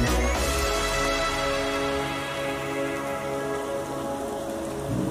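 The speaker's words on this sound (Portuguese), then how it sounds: "Olha lá, e a chuva começou aqui agora." Light rain falls beside the Corumbá river in Goiás, a dense and fairly loud steady hiss of drops that continues without pause and with no talk.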